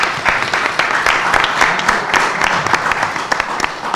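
An audience at a talk bursts into loud, sustained applause, with many overlapping claps forming a dense, continuous patter close to the microphone.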